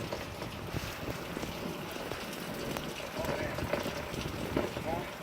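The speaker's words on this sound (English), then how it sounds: "It's wide open space. And so this is legit wind." Strong Hurricane Irma wind roars steadily across a wide open space in Orlando, a dense, continuous rush buffeting the microphone with faint rain-like hiss.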